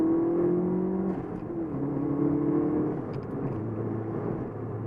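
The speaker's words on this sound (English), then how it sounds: "you get to hear that turbo whistle when you shift." A 2002 Subaru Impreza WRX wagon accelerates under boost, heard from inside as a steady engine drone with a rising turbo whistle that dips when the car shifts and then climbs again.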